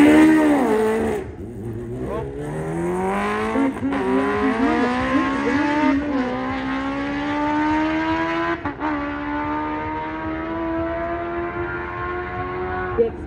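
A Kawasaki H2 or H2R motorcycle screams through a long, loud full-throttle run with wheel spin, its high engine note climbing steadily through several gear changes and holding a continuous rising whine, no talk over it.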